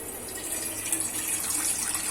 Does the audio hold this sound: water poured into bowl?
yes